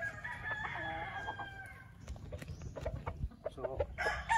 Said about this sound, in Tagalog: Tapos kukuha tayo ng manok.